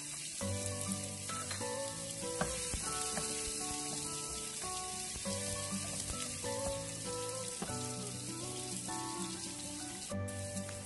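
Ginger sautéing in a hot pan for ginisang munggo, sautéed mung beans, gives a steady close sizzle and hiss that runs the whole time beneath louder background music with clear melodic notes.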